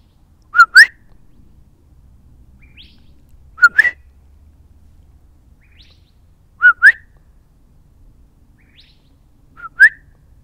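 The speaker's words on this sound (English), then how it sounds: "That bird's very loud." A single loud bird whistles in clear, sharp rising calls, repeated four times at roughly three-second intervals, each call a quick two-note burst, close and alone against near silence.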